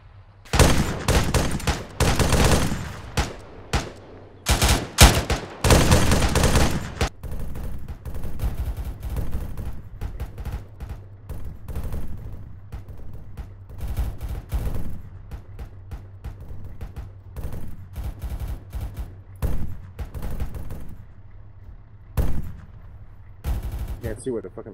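Sustained gunfire in an ArmA 3 military realism operation, dense bursts and rapid volleys in the opening seconds, then scattered sharp shots with quieter gaps, over a steady low engine-like drone, with radio-style voices talking at times.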